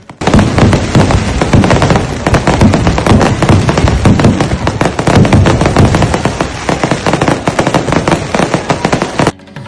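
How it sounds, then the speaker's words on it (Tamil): Fireworks at a night temple festival after the evening puja, with a dense, continuous barrage of loud crackling bursts and rapid pops lasting nearly ten seconds before cutting off abruptly. "இரவு பூஜை முடிந்ததும் விண்ணை வண்ணமாக்கும் வகையில் வான வேடிக்கை நடைபெற்றது."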